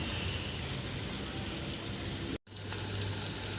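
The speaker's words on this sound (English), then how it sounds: "saute the onions for 4 to 5 minutes on medium flame" Roughly chopped onions sizzle steadily in a pan over medium flame, a constant close crackling hiss that briefly cuts out before resuming, with no voices.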